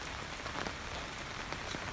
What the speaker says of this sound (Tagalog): tapos ang ulan-ulan pa